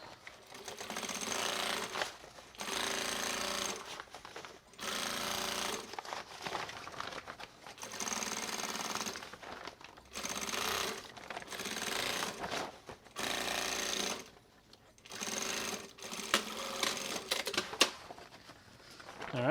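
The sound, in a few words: sewing machine stitching a shopper bag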